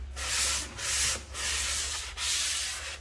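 A sanding block rubs down the edge of a flood-repaired drywall sheet in a series of broad, hissing strokes, four or five passes with brief pauses between, close and steady with no talk.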